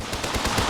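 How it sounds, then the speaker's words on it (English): Rapid bursts of gunfire and explosions from the battle video game TABS (Totally Accurate Battle Simulator) come as a dense, loud, rhythmic rattle of repeated shots, without talk. "explosions are happening"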